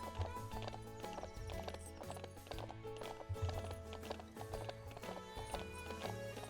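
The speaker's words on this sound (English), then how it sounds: "I can't imagine it's comfortable that my horse is going down the stairs like that" A horse's hooves clip-clop down a flight of stairs in a rapid, uneven patter of hard knocks. Steady tonal sounds continue underneath.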